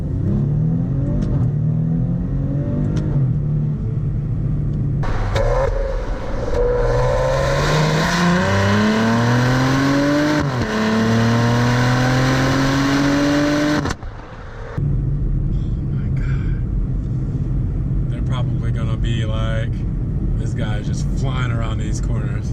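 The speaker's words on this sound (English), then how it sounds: "it's just the first initial, you know, RPMs going up, and you having full control of the RPMs" A Maserati Levante SQ4 engine revs hard as it accelerates, loud and close, with repeated rising sweeps through the gears and a brief lift near the end, while a person talks over it.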